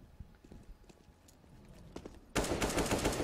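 Counter-Strike match on the Train map: scattered faint in-game sounds give way to a sudden loud burst of rapid gunshots that fills the last second of the clip.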